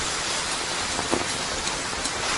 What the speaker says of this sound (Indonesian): Hujan besar, tunggu sebentar lagi.